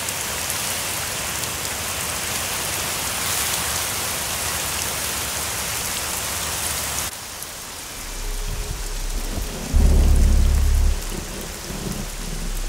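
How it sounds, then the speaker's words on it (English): Heavy rain pours down in a dense, steady hiss, then eases. A deep, loud rumble of thunder rolls in near the end. "raining heavily here"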